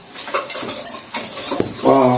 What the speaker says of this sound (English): My eggs, melted butter. Just give it a quick mix.